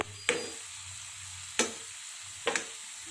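Onions and cloves fry in four spoons of oil, a faint, low sizzle broken by three sharp utensil taps against the pan, with no one talking.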